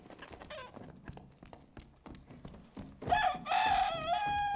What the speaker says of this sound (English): Who's turned into a chicken?